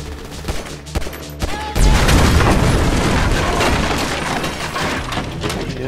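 A gas can is shot and explodes in GTA 5, landing as one loud, close boom with a rumbling roar that tails off, after a few sharp gunshots and pops just before.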